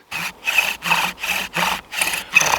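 A wooden bow drill spindle spins fast in its wooden board as the bow saws back and forth, giving a rhythmic series of about six raspy rubbing strokes, close and clear, with no talking.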